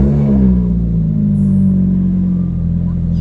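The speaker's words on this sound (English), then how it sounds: "ignition, and push the engine start" A Lotus Exige S engine fires up close by, settling into a loud, steady low rumble that holds throughout with no talk over it.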